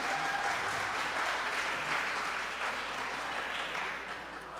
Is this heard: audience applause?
yes